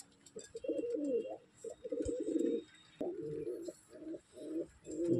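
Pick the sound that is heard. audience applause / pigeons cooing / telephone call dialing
pigeons cooing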